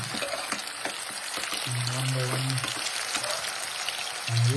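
Whole spices (bay leaf, cumin, cinnamon, cloves and large cardamom) fry in hot oil, crackling in a steady close sizzle with scattered pops, while a low hum and faint voice sound in the background.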